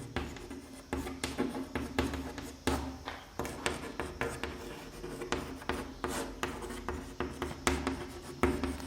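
Pen writing steadily on paper, a close series of short scratchy strokes in an uneven rhythm, with no voice over it.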